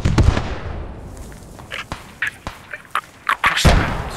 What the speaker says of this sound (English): there's a sniper shooting